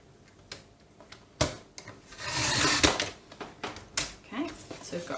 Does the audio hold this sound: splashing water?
no